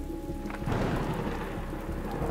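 Heavy rain hisses down in a steady wash while thunder rumbles low and close beneath it.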